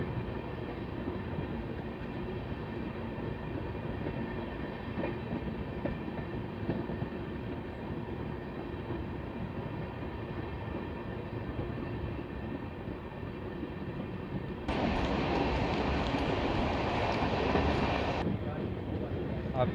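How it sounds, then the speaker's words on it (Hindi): The Lalkuan-Bandra superfast express runs along the line near Katghar cabin before Moradabad, heard from inside as a steady rolling rumble with faint wheel clatter, growing louder and brighter for a few seconds near the end. "ट्रेन हमारी जो है वो कटघर केबिन जो कि मुरादाबाद से पहले पड़ता है वहाँ पर पहुँच रही है"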